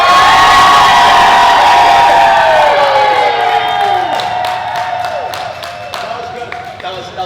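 A convention audience at the Too Many Games 2021 gaming panel cheers, whoops and whistles loudly, then the noise gradually thins out into scattered shouts and claps.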